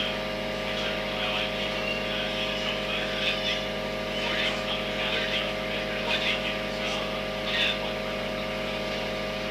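Steady droning engine and propeller hum inside an aircraft landing on a runway, loud and constant, with a voice talking over it.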